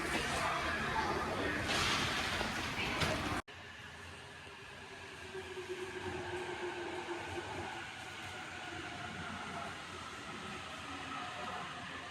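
A train in Japan bound for Tokyo. A loud, rushing burst cuts off sharply, then a steady rumbling hiss with faint tones continues inside the car and lasts to the end.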